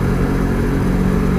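A Honda CBR250RR sport motorcycle engine cruising steadily in sixth gear at about 80 km/h, a continuous close-up drone with a constant pitch and no speech.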